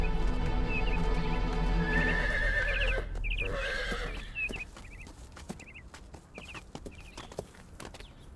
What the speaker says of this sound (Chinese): 这匹马叫李飞沙，它可是大王最珍贵的宝马